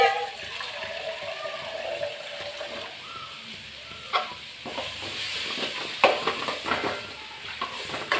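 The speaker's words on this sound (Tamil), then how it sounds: "இதுக்கும் நான் கொஞ்சம் தண்ணி ஊற்றி வேக வச்சுக்கிறேன்" Water is poured into a pot of potato kootu as it cooks and sizzles, giving a steady hiss with scattered clinks and splashes, close by, and a voice talks over part of it.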